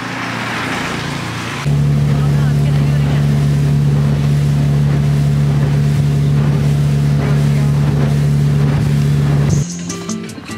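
A motorboat carries passengers across Lake Atitlán in Guatemala. Its engine gives a loud, steady drone over rushing water and wind for about eight seconds, then cuts back to a quieter idle.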